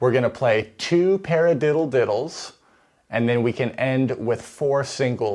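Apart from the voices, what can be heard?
No everyday noise stands out behind the speech.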